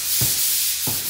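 Sandpaper rubbing over a surface during construction work, two short scratchy strokes spaced apart, close and fairly loud over a steady hiss, with no voices.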